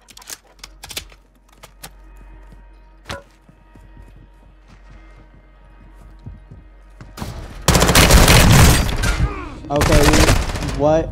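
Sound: P90 gunfire in video game Call of Duty Warzone 2

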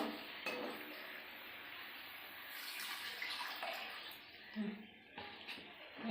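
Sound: water poured into cooking pot

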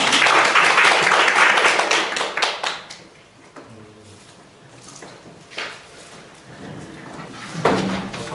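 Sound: audience applause welcoming a lecturer

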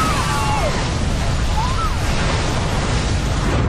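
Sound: explosion of ignited gas in an aircraft cabin fire

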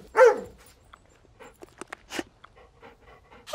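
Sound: dog barking in cartoon

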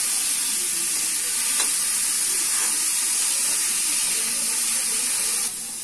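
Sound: onions frying in a pan for pav bhaji

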